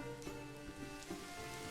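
Steady rain pours down in the medieval city-building game Manor Lords, a dense, even hiss of falling drops with faint scattered patters, quiet and continuous with no talk.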